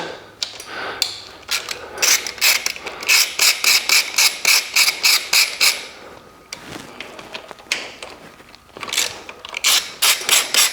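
A hand ratchet clicks in quick rapid bursts while loosening cover bolts on a BMW F850 GS motorcycle in a garage, close and loud, with short pauses between the runs of clicks.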